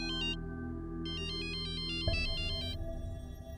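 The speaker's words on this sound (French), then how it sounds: "Oh, c'est Néhal. Je vais répondre" A mobile phone ringtone plays a bright, repeating electronic melody of quick chirping notes over a low steady hum, with a soft thump partway through as the phone is picked up.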